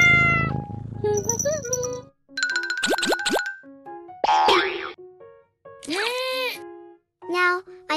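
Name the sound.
cat meowing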